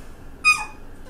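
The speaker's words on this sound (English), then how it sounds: "That cute little cry is a welcome sound to this pup's mom." A rescued wolf hybrid puppy gives one short, high, thin cry, close by, against a quiet background.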